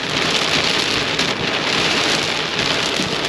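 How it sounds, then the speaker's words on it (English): A thunderstorm pours heavy rain over the outback town of Broken Hill, Australia, with wind-driven rain falling sideways. Close, loud and continuous, a dense hiss of rain with faint low rumbling beneath and no voices. "the storm rolling in over the top of the town"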